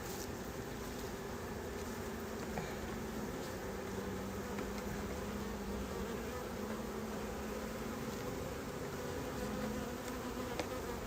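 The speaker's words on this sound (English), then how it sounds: "Get those bees to move out of the way." Steady, dense buzzing of many honeybees during a hive inspection fills the clip, continuous and close, with a low droning hum underneath and no talking.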